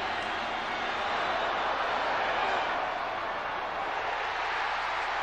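A big football stadium crowd at a 1995 Vikings versus Lions NFL game reacts to an interception with a sustained, loud roar of cheering that holds steady throughout without fading.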